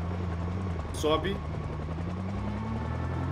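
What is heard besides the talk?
helicopter flying overhead in the video game Project Zomboid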